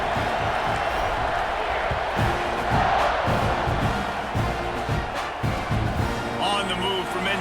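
A stadium crowd roars at kickoff in the College Football 26 video game, Auburn versus Texas A&M, a broad sustained wash of cheering under a play-by-play commentator's voice, swelling briefly midway.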